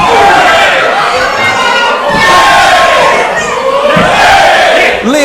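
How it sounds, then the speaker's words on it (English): A wrestling arena crowd roars and cheers continuously at an independent wrestling show, loud massed voices swelling in waves with shouts rising out of the din, close and dense throughout. "The crowd are electric for the unit."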